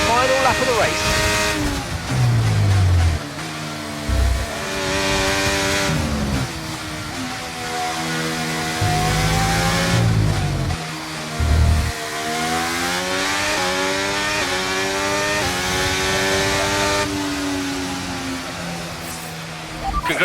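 Race car engines roar through the final lap of a race in the F1 video game Braking Point, a continuous high-revving whine rising and falling with gear changes, with voices talking over it at times.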